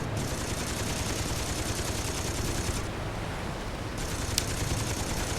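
Steady rattling gunfire from Saints Row 2 on the Xbox 360, a dense continuous fusillade of automatic shots at moderate level with a brief lull midway.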